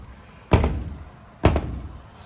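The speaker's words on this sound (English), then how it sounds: "Now, this door will not close." A house door in a mobile home under renovation, shoved out of line by spray foam so it will not close, is slammed twice, each a loud close wooden thunk about a second apart with a short rattle after.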